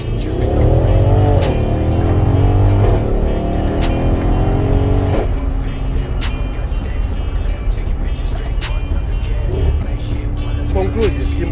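Mercedes ML63 AMG, a 557 horsepower four-wheel-drive SUV, accelerating hard with traction control off: a loud, steady engine roar with rising tones and possible tire noise, with people talking over it.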